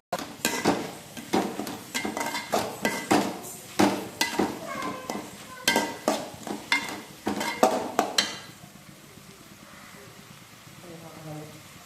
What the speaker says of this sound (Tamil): நல்லா வதங்கிடுச்சு வெங்காயம் தக்காளி இப்போ இப்போ கொஞ்சம் மஞ்சத்தூள் போடணும்